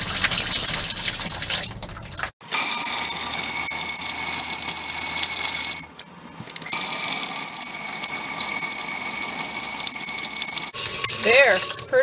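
Water gushes steadily from a tap through freshly flushed plumbing lines, cleared of pink antifreeze, a loud continuous rush with two brief pauses where the flow stops.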